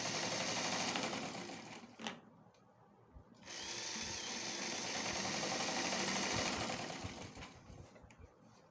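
Sewing machine top stitching the pocket of a palazzo trouser, a close, rapid whirring chatter in two bursts separated by a brief pause with handling clicks.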